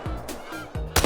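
Geese honk in the video game theHunter: Call of the Wild, a few close, loud calls in quick succession with a brief gap between them and no voices over them.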